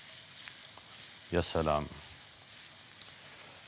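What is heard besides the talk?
shrimp and onion sizzling while frying in a pan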